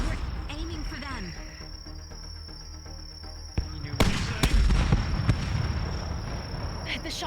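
Gunshots in a VRChat roleplay battle ring out as a few sharp, loud cracks after a quieter stretch with faint voices, followed by a rumbling, noisy aftermath.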